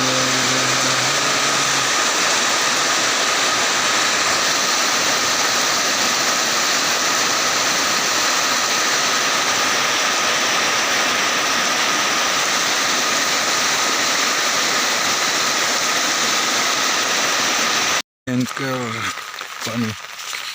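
Floodwater from heavy monsoon rain rushes steadily and loudly across paths and fields near a flooded village home, a constant dense roar that continues almost unbroken until an abrupt cut near the end.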